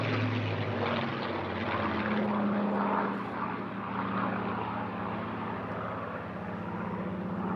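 A Battle of Britain Memorial Flight aircraft with Rolls-Royce engines drones steadily overhead at an airshow in Eastbourne, a loud continuous propeller engine roar lasting throughout.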